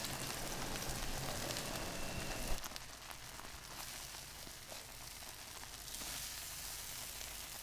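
Drained whole black beans hitting a hot pan and frying with a dense, hissing sizzle that rises sharply at first, then settles into a steady, softer crackle.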